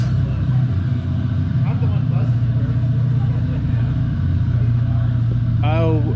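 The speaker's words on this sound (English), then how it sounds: "So I don't know how recent they rebuilt this engine, but it is silky smooth. It purrs." A rebuilt tractor engine idles smoothly, a steady, close, even low rumble running throughout while someone talks over it.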